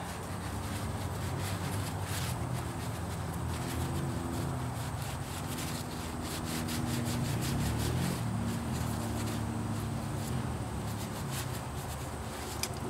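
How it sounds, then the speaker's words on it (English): A towel rubs steadily against a bolt on a 110 TLB tractor during an oil change. The cloth makes a soft, continuous scrubbing sound up close for several seconds, with no voices. "Everything in the towel and just give her a wipe."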